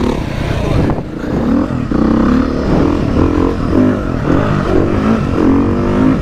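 A Beta RR dirt bike engine drones loudly while being ridden, a steady close rumble with slight rises and falls in pitch and some rattly clatter from the machine.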